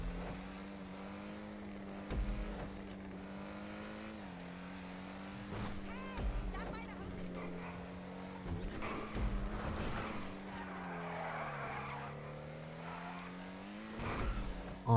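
A Lampadati Komoda sports car drives a test track in GTA, its engine giving a steady, moderately quiet hum whose pitch dips and climbs with shifts and throttle changes.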